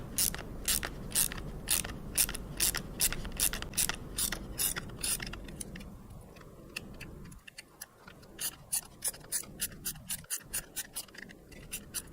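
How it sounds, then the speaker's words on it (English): A ratchet wrench clicks in quick, close bursts while taking apart a P100 gyro, pausing briefly midway before the rapid ratcheting resumes; no one speaks. "So this is a ratchet wrench."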